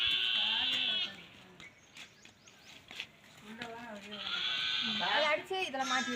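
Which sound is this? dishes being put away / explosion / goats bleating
goats bleating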